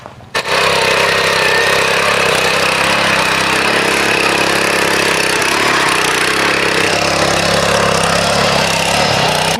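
A Sraja R111 power weeder with a 7.75 HP turbo Italian petrol engine runs at full power, a loud, steady, dense mechanical roar that holds without a break, with no voices.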